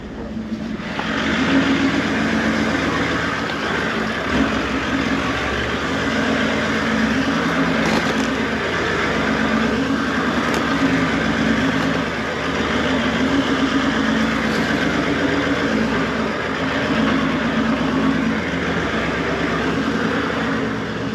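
A vehicle drives across tidal mud flats on a beach, producing a steady engine drone and road rumble that stays loud and continuous throughout, with no talking.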